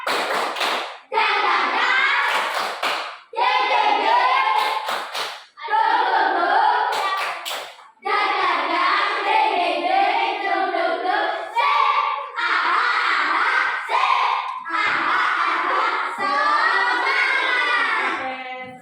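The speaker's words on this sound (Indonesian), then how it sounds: "terima kasih tepuk tangan untuk kita semua" A class of schoolchildren in a classroom claps in repeated bursts of brisk, loud applause, each lasting a couple of seconds and separated by brief pauses.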